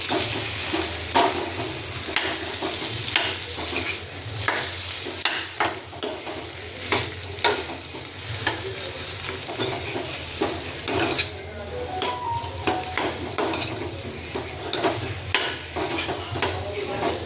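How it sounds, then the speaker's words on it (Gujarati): Dry potato sabzi stirred in a pan with sugar being mixed in. A spatula scrapes and clanks against the metal in a quick, uneven rhythm over a soft constant sizzle, close up and with no talking. "ખાંડ એડ કરીશું આપણે થોડી અને ના ખાતા હોય તો સ્કીપ પણ કરી શકો છો ખાંડ હવે તેને મિક્સ કરી દઈશું"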